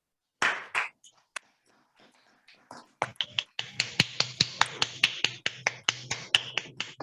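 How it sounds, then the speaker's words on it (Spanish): A small group welcoming guests at an evening class claps in sparse, separate hand claps at first, then settles into a steady, close, rhythmic clapping from a few people. "les damos la bienvenida y les damos un aplauso"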